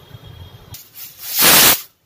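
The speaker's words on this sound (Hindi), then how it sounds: "दूसरी सीटी में बंद कर दी गैस।" A kitchen pressure cooker used for cooking matar paneer releases steam in one loud, broadband hiss lasting about half a second. A quieter rushing sound leads into it, and it cuts off abruptly.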